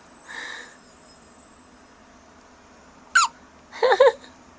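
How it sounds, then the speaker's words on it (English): Baby hiccups: a soft short hiccup early on, then after a pause a sharp squeaky one and a quick pair close together near the end, close and fairly quiet against a hushed room. "You have the hiccups. Baby with hiccups."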